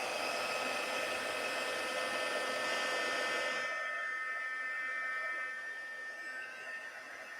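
A heat tool used for embossing in stamping crafts blows steadily and loudly with a hair-dryer-like whoosh for several seconds, then cuts off and fades into quieter room noise.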